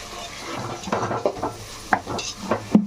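Chicken curry with ginger paste and turmeric is stirred in a pot, giving a series of close, irregular scraping and clinking spoon-on-metal strokes over a faint background sizzle.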